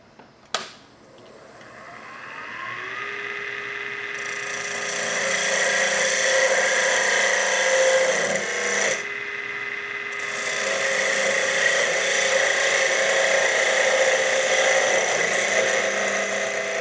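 A woodturning tool cuts into spinning wood on a lathe, producing a continuous loud, high whining scrape that builds steadily and holds, dipping briefly midway, with no talk.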